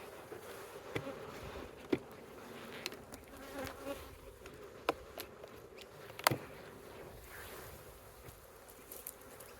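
Honey bees swarm and buzz around an open beehive during an inspection, a steady close droning hum with individual bees flying past the listener, plus occasional faint handling knocks.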